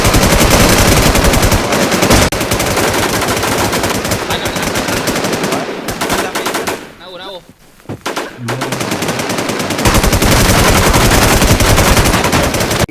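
Rapid automatic gunfire from the online shooter game Infestation, loud and dense bursts throughout, with a brief lull in the middle before the firing resumes.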